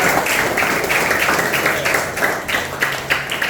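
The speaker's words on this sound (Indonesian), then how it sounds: "Ya, tepuk tangan untuk semuanya." Classroom applause for everyone during an Indonesian Pancasila lesson, a loud, dense patter of clapping hands sustained throughout, with no talk over it.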